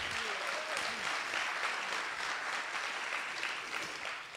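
Applause from an audience at an MLK community summit: a steady, dense wash of many hands clapping at a moderate distance, fairly soft, with a faint voice briefly audible early on.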